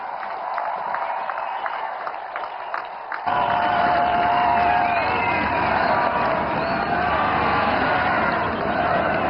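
A large crowd at a political rally with the Prime Minister breaks into loud, sustained applause and cheering, a dense roar that swells suddenly and continues without pause.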